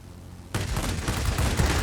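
Sustained burst of 20mm and 30mm aircraft cannon fire from a Ki-84 Hayate in World of Warplanes, starting abruptly and rattling continuously, loud and dense, with no voices.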